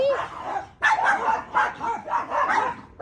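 A dog barks several times in quick succession, close and loud, with sharp, slightly whiny yaps.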